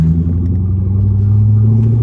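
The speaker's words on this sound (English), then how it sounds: "love the way this exhaust sounds. It's really fantastic." A 2006 C6 Corvette V8 fitted with a new exhaust system rumbles loudly and close, with a deep, steady throaty drone as the revs rise slightly, with no talking.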